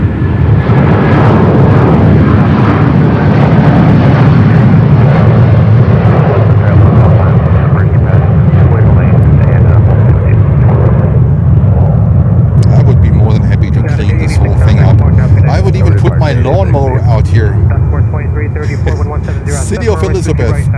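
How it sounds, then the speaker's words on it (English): A United Boeing 757 jet airliner roars loudly overhead at Newark Liberty International Airport, a broad sustained rumble that gradually fades, with a helicopter and traffic noise mixed in. "we can enjoy a United 757"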